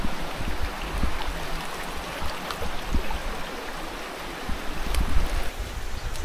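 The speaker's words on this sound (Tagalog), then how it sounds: "Ang lakas ng tubig dito, 'di ba?" Water rushes continuously and loudly nearby, a broad turbulent roar with occasional gusts of wind noise on the microphone.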